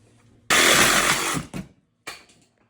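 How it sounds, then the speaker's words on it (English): A power tool cuts a U-joint off a double D steering column shaft for a demolition derby car, a loud harsh burst of about one second followed by two short bites. "So we're gonna cut this U-joint off the double D shaft."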